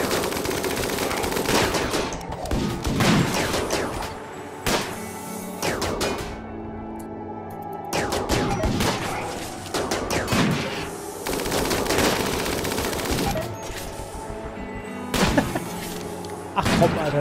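Minigun fire in the video game RimWorld rattles in long sustained bursts with brief gaps, loud and close, while someone talks over the shooting.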